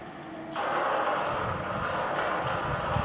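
A South Western Railway train of eight carriages, on the line toward London Waterloo, roars in close and sudden after half a second, then rumbles on loud and steady as it passes.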